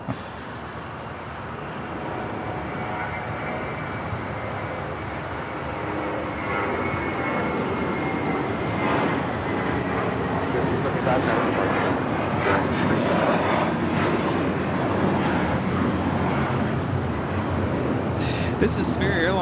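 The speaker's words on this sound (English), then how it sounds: "This is Spirit Airlines 375 taking off to Houston Intercontinental on an A321." Spirit Airlines Airbus A321 taking off from LAX bound for Houston, a steady broad jet roar that swells and stays loud throughout, with people talking over it.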